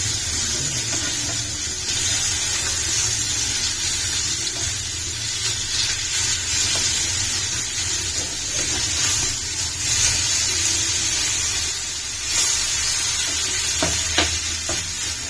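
Fish sizzling and crackling steadily in hot oil for a Kerala-style fish fry with curry leaves, a continuous close frying hiss with no talk.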